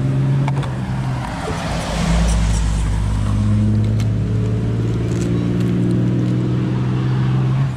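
Eachine EAT14 RC buggy on stock 2S power, its electric motor whining loudly and steadily with rising and falling pitch as it runs a speed test close by, no voices.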